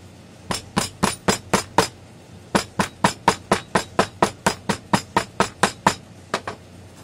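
Sharp, ringing hammer strikes pack material tightly into a flask, over twenty close, even blows in two quick runs separated by a short pause, loud and near.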